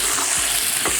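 Meat fries in a kazan for a chicken and cabbage bigus, a steady loud sizzle with a few soft stirring scrapes, no voices.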